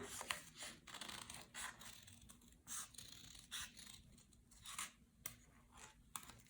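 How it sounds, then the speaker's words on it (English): Scissors snip through folded paper while a butterfly shape is being cut out, making a series of short, crisp cuts at an uneven rhythm. The snips are close and quiet, with no talking. "keeping it folded, you're going to cut out your butterfly."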